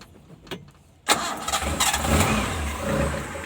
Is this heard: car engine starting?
yes